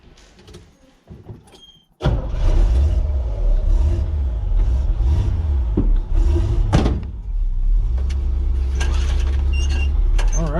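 A 1978 Pontiac Trans Am on the road, its engine giving a loud, steady low rumble from inside the cabin after a quieter start, with faint rattles and thumps over the drone.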